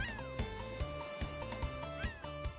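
Repeated cat meows from the Tales of Symphonia video game ring out alone over a light musical background, a string of short, bright calls with a few rising cries.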